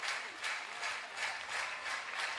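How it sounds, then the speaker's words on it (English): A crowd cheering a pole vaulter on his last attempt at 4.90 meters during an outdoor pole vault challenge, rhythmic waves of clapping pulsing about twice a second, fairly distant and steady. "You can see how the crowd is hyping him up."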